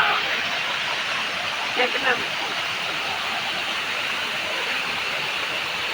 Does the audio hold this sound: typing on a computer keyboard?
no